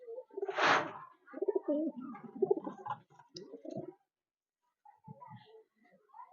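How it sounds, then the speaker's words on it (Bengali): Dobaj pigeons coo in soft throaty bursts with clicks, close by, in short clusters separated by a quiet pause. "এবার পছন্দের আরেকটা পেয়ার দেখাবো দোবাজ পায়রা"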